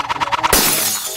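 Clay plates shattering when shot in the video game Prove Yourself a Gunslinger: a rapid series of clicks leads into one loud, bright crash of breaking that rings out and fades.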